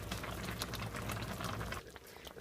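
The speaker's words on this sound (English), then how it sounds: "I turned the heat off, but it is still bubbling because these cast iron pans do hold the heat." Chicken and dumplings bubble steadily in a cast iron pan after the heat is switched off, a dense, close, continuous simmering boil that eases slightly near the end.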